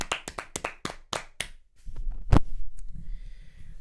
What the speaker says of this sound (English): Let us applaud for Cole Palmer.